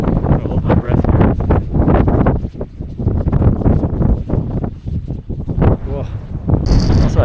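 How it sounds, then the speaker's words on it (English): Gusty wind buffets the microphone on the open Uyuni salt flat in Bolivia in freezing cold, a loud continuous rumble rising and falling in surges throughout, with a person talking over it. "Got a little bit of gust of wind"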